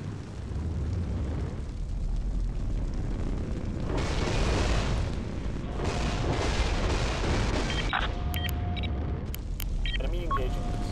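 Rocket launches and explosions in a naval strategy game, a long roaring rumble with heavy booming bursts and swelling blasts, then electronic tones near the end, with voices talking over it.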